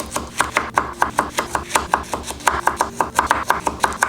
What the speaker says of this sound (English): I like to cut these in half just so that they cook faster and they're not as big.